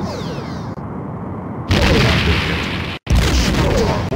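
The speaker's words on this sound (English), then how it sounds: "Enemy ship is firing." Enemy starship weapons fire in the DOS space game Star Trek: A Final Unity: a loud, sustained booming barrage that cuts in abruptly, breaks off for an instant, then resumes with heavy rumbling blasts.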